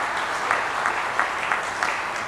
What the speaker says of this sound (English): Let's clap for him, for her.